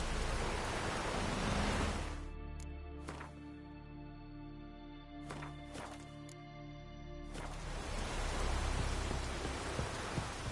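Steady hiss of rain in the video game The Witcher 3 pours at the start and end, interrupted in the middle by a sustained tonal music passage with faint clicks.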